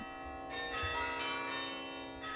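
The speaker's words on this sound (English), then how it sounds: "This bell is the sound of remembrance." A single large bell rings with a sustained, shimmering tone, struck again near the end, resonant and moderately distant.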